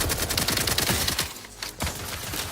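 Rapid bursts of assault rifle fire from the shooter game The Outer Worlds 2, loud and close, with sharp repeated cracks that stop briefly and then resume, and no talking.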